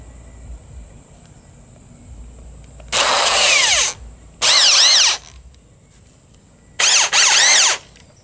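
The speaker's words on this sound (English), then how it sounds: "Alright, I'm going to put 2 screws in here." A power drill drives two screws into a wooden archery target stand in three loud, close bursts of whining, rising motor sound separated by quiet pauses, over faint background hiss.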